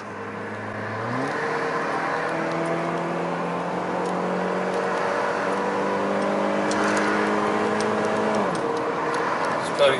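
A modified Honda Civic running on LPG accelerates, its engine note climbing steadily through the gears, with shifts near the start and near the end, heard steadily from close by.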